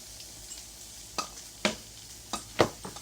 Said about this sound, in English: We're going to saute these mushrooms and add a little bit of salt.